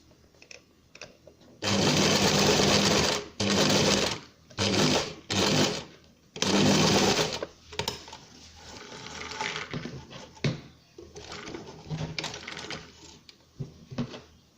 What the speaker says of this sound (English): let's get sewn